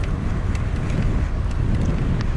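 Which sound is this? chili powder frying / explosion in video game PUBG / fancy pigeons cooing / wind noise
wind noise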